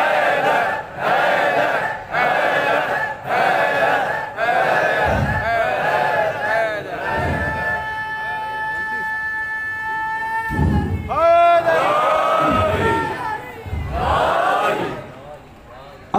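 A congregation at a Shia majlis chants religious slogans in unison, loud sustained collective shouts that swell and fade in waves, alongside a speaker's voice.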